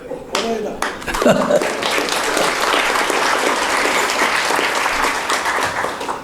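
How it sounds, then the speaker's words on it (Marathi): Steady, dense applause from an audience at a centenary celebration of the Goa Hindu Association fills the clip, with a voice briefly audible near the start. "परत तुम्ही आता टाळ्या दिल्यात"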